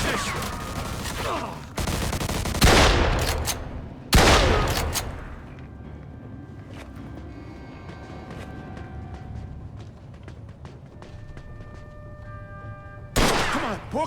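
Bursts of enemy gunfire in the Mafia 2 video game, with dense, loud volleys early on and again near the end, and a quieter, ringing stretch in between.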